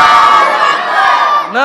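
A crowd at a Mawlid gathering roars a single sustained takbir together, a loud massed shout of many voices that fades out near the end.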